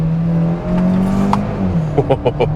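A 2022 Kia Soul Turbo with a dual-clutch gearbox accelerates at full throttle, its engine note rising loud and close, then dipping briefly at a gear change before climbing again.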